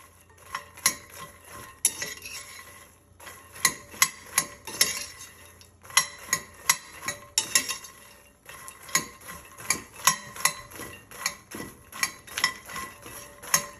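Fox nuts (makhana) stirred and dry-roasted in a pan over low heat: a steady run of sharp clinks and scrapes from a spoon against metal, close and fairly loud, with a faint sizzle underneath and no voices.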